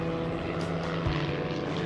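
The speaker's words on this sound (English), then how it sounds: "A plane on fire." Propeller airplane engine drone, steady and fairly loud throughout, a continuous low hum with no talking, fitting a burning plane in an air battle with flak.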